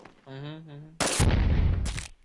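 Gunfire in a zombie defense video game, a burst of loud, dense shots erupting after a short vocal sound, with a sharp crack near the end.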